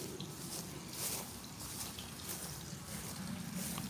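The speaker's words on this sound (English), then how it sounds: "Let me turn this water off." A tap runs indoors with a faint, steady trickle and splash of water, low and continuous throughout, with no talk over it.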